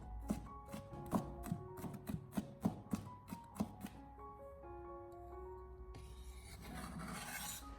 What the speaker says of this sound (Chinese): 我们先用刀把大蒜拍一下，最后再将它改刀切成蒜末。